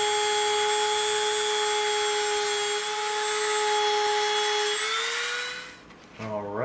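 A rotary tool with a round bit cuts a trench into EVA foam, giving a steady, close, high-pitched whine that rises slightly near the end before cutting off, followed by a brief voice.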